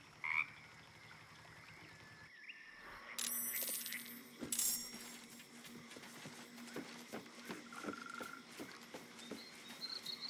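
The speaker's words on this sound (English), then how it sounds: "It shies away, croaking a warning, eyes wide in terror." A frog in Baldur's Gate 3 croaks in short, faint bursts amid sparse game sounds, scattered clicks and a low ambient hum, quiet and close.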